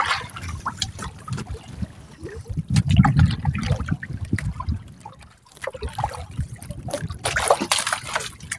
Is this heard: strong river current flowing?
yes